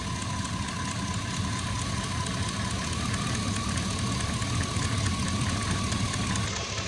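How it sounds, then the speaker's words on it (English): An eight-cylinder car engine idles steadily with one fuel injector unplugged, a close, continuous low rumble with a faint rhythmic knock running throughout. "let's go over here and see if this reacts when we unplug this injector."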